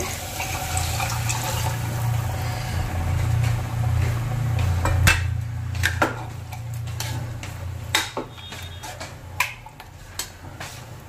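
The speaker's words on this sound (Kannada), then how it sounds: "ಸೊ ನೀರು ಹಾಕ್ತಾ ಇದ್ದೀನಿ." Water pours steadily into a pot of chicken, salt and turmeric for Hyderabadi biryani, then gives way to scattered clinks and knocks of utensils.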